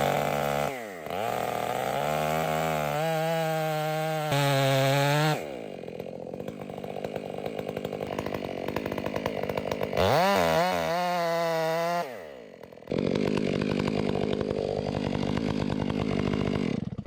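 Chainsaw fitted with a square-ground chain cutting into a tree, loud close engine revving up and bogging down in long bursts between brief idle drops, the pitch climbing and falling as it bites the wood.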